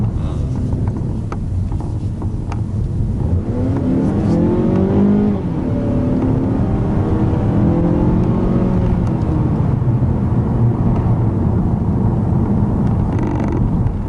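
A 2021 Mazda 3 hatchback's naturally aspirated Skyactiv-G petrol engine revs while driving, its note rising steadily then easing off, a smooth continuous drone heard from inside over road noise, with no talk.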